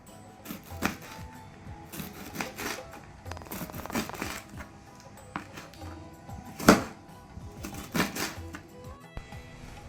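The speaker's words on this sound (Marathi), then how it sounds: "आतां हें सांगाता दवर न्हू, बारीक कातरून काडया." Colocasia leaves are finely chopped for Mangalorean pathrode, a run of quick irregular cutting clicks and taps, close and fairly soft, with a few sharper strikes among them.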